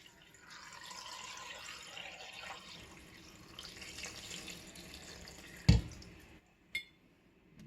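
Tap water runs steadily into a pot of bones and vegetables for chicken broth, a continuous close splashing fill that ends with a couple of sharp clunks and a brief drip.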